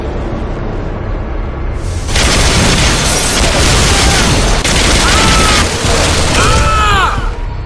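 Loud, dense gunfire and booming explosions from the arcade shooter video game Bodycount, a continuous barrage of shots and blasts that swells after the first two seconds, with whistling ricochet-like sweeps near the end.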